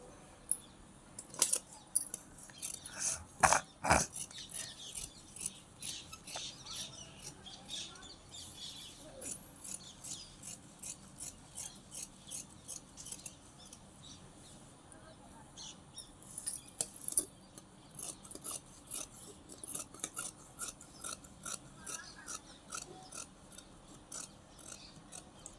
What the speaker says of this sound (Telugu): ఇప్పుడైతే కటింగ్ అయితే చేసేసుకుందాం.